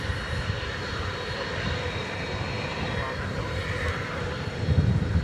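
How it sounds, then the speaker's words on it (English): An American Airlines Boeing 777 takes off from the DFW runway at night, making a loud, steady broadband jet roar that swells toward the end. "We're going to see if we can say goodbye to this American Airlines 777."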